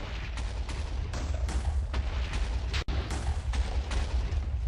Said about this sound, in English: So now I have a TNT launcher, 2 blocks big.